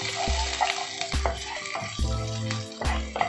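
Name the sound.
ginger and garlic frying in a pan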